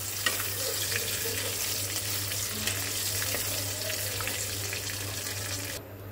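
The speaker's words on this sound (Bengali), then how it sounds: "তেলের মধ্যে দিয়ে দেব একটা তেজপাতা আর শুকনা মরিচ ফোড়ন। তেজপাতা আর শুকনা মরিচটাকে একটু হালকা ভেজে নিতে হবে।" A bay leaf and dried red chili fry in oil for a shrimp dish, giving a steady, close hiss of sizzling that holds evenly throughout, with no voices.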